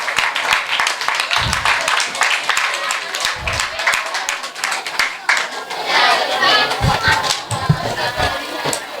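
Students clap at a primary schools' football opening ceremony in bursts of scattered, outdoor-sounding applause, with talking over parts of it.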